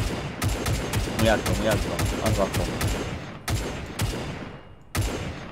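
Repeated gunshots ring out in the Arma 3 WWII Pacific War mission on Attu, sharp single reports spaced irregularly, loud and close, with someone talking over the early shots.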